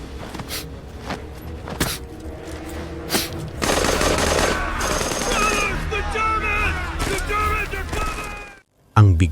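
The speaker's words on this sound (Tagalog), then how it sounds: "kinuha ang kanilang machine gun at nagpaputok mula sa likuran" Machine gun fire in a World War II battle at Rzhev, dense rapid bursts and scattered shots building into a loud sustained fusillade, ending abruptly.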